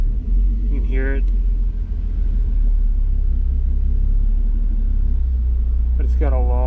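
A 2JZ-engined car with an ACT twin-disk clutch and T56 gearbox rumbles at low revs while the clutch is slowly engaged, a steady deep drone bogging down toward a stall. Brief voice sounds occur near the start and end.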